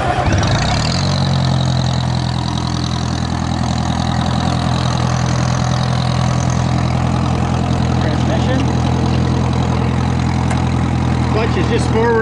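A Beetle dozer with its hood off starts up and settles into a steady, loud, low idle that runs unbroken to the end.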